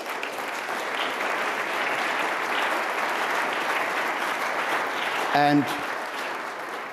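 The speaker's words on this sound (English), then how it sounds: "Let me propose that we offer a round of applause to our two speakers." Applause from a conference audience at the Munich Security Conference, a steady, full round of clapping filling the hall, with a brief spoken word from a man near the end.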